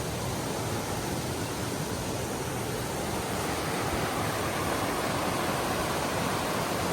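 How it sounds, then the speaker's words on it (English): Water pouring down below waterfalls on the Kennebunk, a steady broadband rushing wash that stays constant and fairly close throughout, with no voices. "Here's the water after it comes out of the waterfalls and comes down here"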